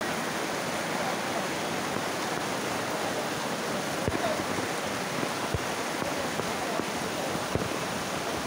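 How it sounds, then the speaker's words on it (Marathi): Heavy Sunday evening rain pours over the flooded jewellers' market in Nashik, a constant dense roar of falling water with a few faint knocks and no clear voices. "रविवारी सायंकाळी 5 वाजेपासून पावसाचा जोर वाढला"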